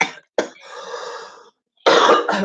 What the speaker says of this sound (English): coughing fit